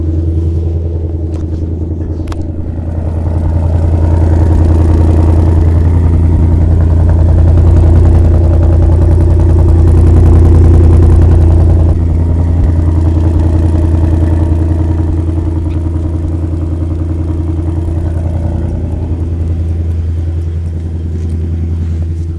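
Ford Mustang GT V8, the 2024/2025 European model, idling with a deep steady exhaust rumble heard from behind the car, loud and continuous with a slight swell in the middle, no talking.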